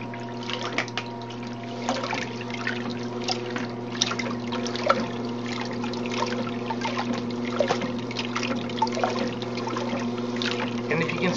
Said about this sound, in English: I'm going to turn it on to gentle for a moment or so now for you to watch as I let that distribute the detergent.